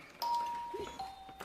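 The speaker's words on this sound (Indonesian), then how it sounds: "Tidak lama, terdengar sebuah bel." Doorbell in the 2013 film The Family, a ding-dong chime ringing clearly at moderate volume with a faint tone lingering over a quiet room.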